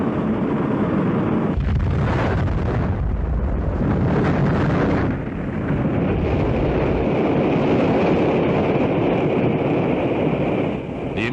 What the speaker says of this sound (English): The immediate cause of the explosion is not known